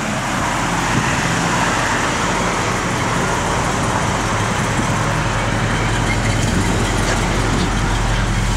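A 1960 Chevrolet Impala with a 348 V8 and no big cam runs steadily at idle, a continuous loud low rumble with broadband roar, no talk over it.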